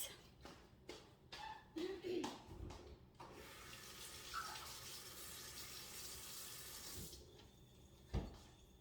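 Tap water runs steadily into a sink while food is rinsed during kitchen prep, a continuous hiss lasting several seconds after some brief handling knocks, then cutting off sharply near the end.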